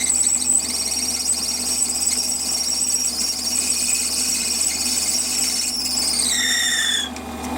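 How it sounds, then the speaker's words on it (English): A lathe drills a 5mm hole into a needle file handle, giving a loud, close, sustained high squeal over a steady motor hum, its pitch sliding downward near the end before the cut stops. "we're going to drill that 5mm"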